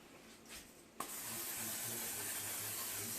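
Olive oil spray mists over the tops of bread appetizers on an air fryer oven tray, a soft steady hiss running several seconds after a faint click, quiet and close.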